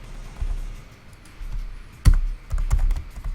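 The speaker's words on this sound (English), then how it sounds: "Whoa, I can't type. Typing is hard." Computer keyboard being typed on during a livestream: scattered soft taps and key clicks come in irregular bursts, with one louder thump partway through.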